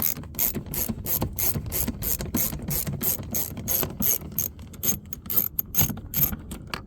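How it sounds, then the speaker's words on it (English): A ratchet unscrews a screw from a 2006-2016 Chevy Impala door, a rapid, steady run of close clicking pawl ticks throughout. "just go ahead and just unscrew that out of there"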